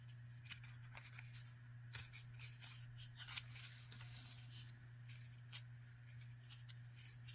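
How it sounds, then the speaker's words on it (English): Paper torn by hand to leave rough edges while making a simple Jesse Tree craft, heard as a series of short, quiet ripping bursts and rustles over a steady low hum. "Just tearing paper off side here. I'm sure you can hear it"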